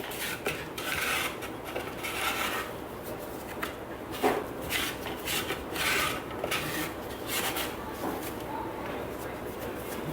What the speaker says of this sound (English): now we're going to scrape down the sides.